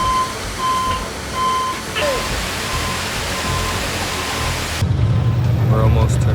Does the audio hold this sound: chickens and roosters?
no